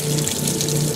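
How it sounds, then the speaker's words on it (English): An LG washing machine refills with warm water, a steady, loud, continuous rushing flow with a low hum underneath and no talking. "And a refill with warm water."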